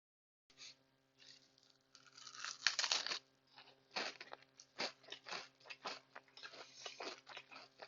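Close crunching from bites into a crisp homemade savory cracker, followed by a run of irregular chewing crunches, loud against a quiet background.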